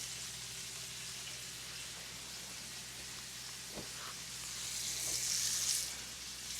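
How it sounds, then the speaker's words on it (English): Thinly cut onions sizzling in a pan over low heat to caramelize, a steady close crackling fry with a brief stirring knock partway through, swelling slightly louder near the end, no voices. "I'm gonna put this on a low heat so we could caramelize the onions"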